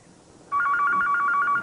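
A telephone rings on a 1995 daytime soap opera set, a steady warbling electronic trill starting abruptly and continuing loud and close with no talk over it.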